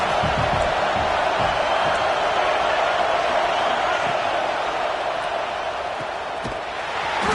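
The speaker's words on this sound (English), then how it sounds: "This crowd trying to make life miserable for this offense." Loud, dense roar of a football stadium crowd during an LSU versus Washington game, a steady wash of noise filling the whole stretch without breaks.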